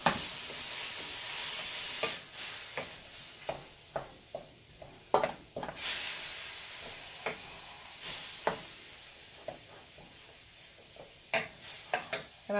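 Ground beef browning in a big pan for breakfast burritos, a soft continuous sizzle broken by repeated scraping strokes of a spatula, fairly quiet and close.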